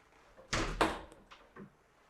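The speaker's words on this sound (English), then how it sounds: "I think I'm going to open this door here." Interior door of a house for sale in Umbria being opened: two close knocking thumps of the handle and frame, followed by softer rattles and a light tap.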